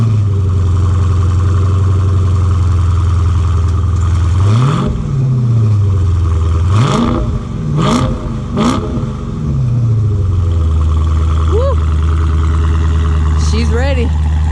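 A 2019 Dodge Challenger Scat Pack with a shaker hood idles with a deep, loud exhaust rumble, then revs sharply several times in quick blips before settling back to idle, with voices briefly heard.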